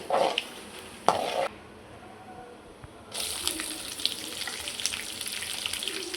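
Cumin and fennel seeds dropped into hot oil, with a few brief clatters and then a loud sizzle that bursts in and keeps crackling steadily up close, with no talking.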